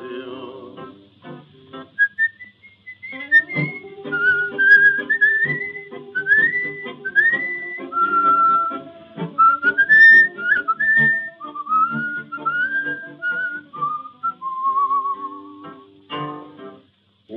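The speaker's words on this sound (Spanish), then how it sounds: "y un reo meditabundo va silbando esta canción." Someone whistles a slow, wandering tune, phrase after phrase, over soft guitar-like accompaniment.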